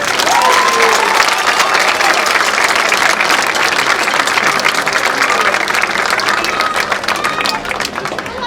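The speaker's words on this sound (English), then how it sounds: "Let's give them a big round of applause." Sustained applause from a crowd in a high school basketball gym honoring student athletes' parents, a dense, even roar of clapping with some cheering, loud and continuous throughout.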